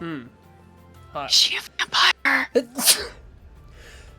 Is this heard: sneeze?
yes